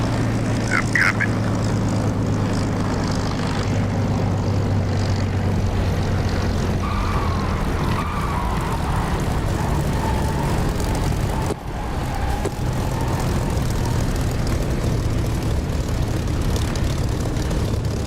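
A propeller aircraft engine in the DCS flight simulator game, a steady loud droning hum with a low tonal rumble held throughout, while someone talks over it in radio-style runway chatter.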